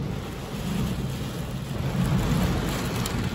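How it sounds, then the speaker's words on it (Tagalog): Heavy rain pours steadily during a storm in Hokkaido, Japan, a dense continuous roar with a low rumble swelling near the end that may be thunder. "Eh ang lakas pa ng mga kidlat at kulog."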